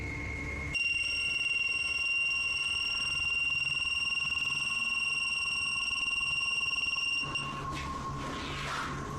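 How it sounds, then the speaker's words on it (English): An EMF sensor emits a steady, high electronic tone continuously for several seconds, then stops abruptly, leaving quiet background noise. "the investigators break out an EMF sensor, which starts beeping dramatically"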